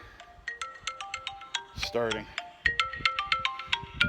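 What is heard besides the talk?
phone ringtone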